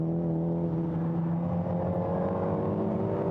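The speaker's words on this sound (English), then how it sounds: "Josh Coggan now powers his way up towards Goddard's for the last time" A Volkswagen Racing Cup race car accelerating at Donington Park, heard as a loud, continuous engine drone with a steady rising tone and no break throughout.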